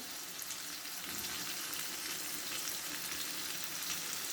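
Nigella seeds sizzling and frying in hot oil alongside crushed cumin for a potato and egg curry, a dense, steady crackling hiss up close throughout.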